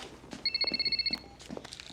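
A telephone rings once in a short burst of rapid electronic trills lasting under a second, fairly close, amid faint footsteps and room noise.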